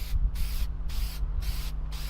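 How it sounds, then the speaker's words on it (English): Rhythmic bursts of aerosol spray as a protective coating is applied to a car headlight, about four short hisses in quick succession over a steady low background hum. "You just spray a thin coat on."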